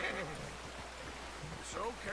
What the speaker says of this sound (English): The river is nearby. It's louder here.